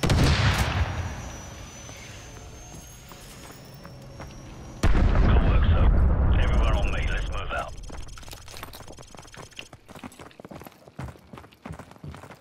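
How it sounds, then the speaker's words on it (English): A Stinger missile fired and exploding in Call of Duty Modern Warfare Remastered: a steady rumbling roar gives way to a sudden, loud, booming blast midway that slowly dies down. "So, grab another Stinger and fire again"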